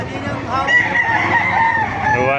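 A rooster crows loudly and close at an outdoor chicken market in Baliuag, one drawn-out call with other fowl faintly behind it.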